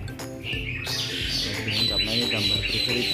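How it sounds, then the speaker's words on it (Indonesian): A pair of Javan pied starlings chirp and squawk busily and loudly close by, their calls overlapping almost continuously while a person talks over them. "burung jalak uren. Ini ada satu pasang, makanya ramai."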